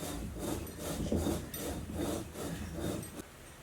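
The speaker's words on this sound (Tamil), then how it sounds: "இப்போ அரைக்க ஆரம்பிச்சிடலாம்" Ginger and garlic being ground for a Karur-style curd chicken, giving a steady gritty rasping in repeated rhythmic strokes, close and moderately loud with no talking.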